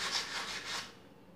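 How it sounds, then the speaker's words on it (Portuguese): Short rhythmic rasping strokes of sandpaper rubbing by hand on an iron grille, three quick passes close up, then fading to quiet. "você fica aqui lixando que uma hora vai"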